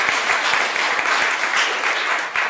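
A crowd claps for casino staff at an indoor public event, a dense, sustained round of applause lasting the whole moment, with no speech over it.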